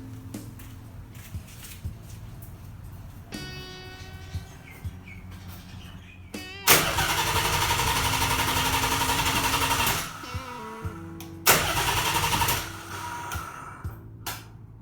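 A Nissan 300ZX with its fuel system drained cranks without starting, the starter whirring loudly in two sustained bursts of several seconds each, with shop clatter and faint chirps between them.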